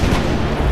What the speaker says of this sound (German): alle sind angespannt und warten einfach gleich auf den Schuss